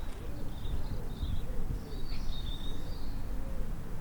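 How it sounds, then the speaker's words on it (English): Birds chirp in short, scattered calls across a city outdoors, recorded in stereo, faint and somewhat distant over a steady rumble of urban background noise. "You can hear some birds chirping around."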